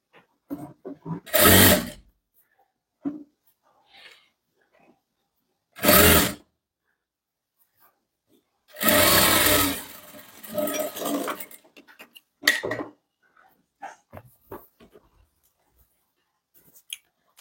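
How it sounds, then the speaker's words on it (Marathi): Domestic sewing machine stitching a straight seam on a boatneck blouse, heard in a few separate bursts of running stitches, the longest around a second and a half, with quiet handling pauses in between and no talk. "त्याच्यानंतर आपल्याला या ठिकाणी उलट करून पुन्हा एक सरळ या ठिकाणी शिलाई मारून घ्यायची आहे एका दाबाच्या अंतरावरती"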